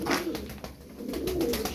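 Tumbler pigeons coo softly and repeatedly at close range, low rolling calls overlapping with light background rustle.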